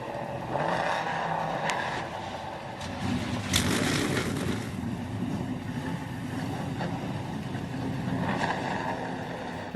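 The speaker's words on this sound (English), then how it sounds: "drivers, start your engines" Race car engines fire up together at a race track after the start-your-engines command, a dense, steady roar of many motors at moderate distance with sharper bursts throughout.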